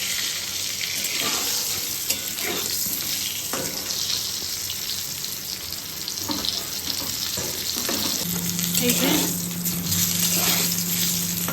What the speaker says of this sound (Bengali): ভালো করে ভাজবো যাতে এখানে মোটামুটি একটু সেদ্ধ হয়ে যায়